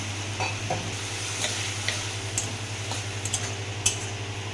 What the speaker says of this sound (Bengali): ভালো করে মশলাটাকে কষিয়ে নিচ্ছি